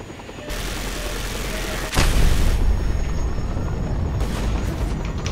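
Missile explosions in Just Cause 2: a sudden loud blast lands around the two-second mark, with a heavy low rumble that lingers over constant battle noise and a second, weaker burst later.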